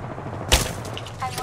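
A single sharp gunshot burst in the Apex Legends video game, a brief loud crack followed by a fading tail and faint background game noise.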